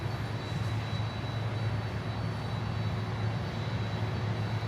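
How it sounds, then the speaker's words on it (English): An all-white LATAM Cargo Boeing 767-300 from Medellin comes in to land at Miami airport, its jet engines giving a loud, steady broadband roar with a low droning hum and a faint high whine, unbroken throughout. "we have another Latam Cargo coming in, all white from Medellin, 767-300, all white"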